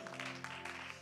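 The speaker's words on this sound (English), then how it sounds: "why don't you clap your hands to him one more time" A church congregation claps its hands in a dense burst of applause over a sustained musical tone.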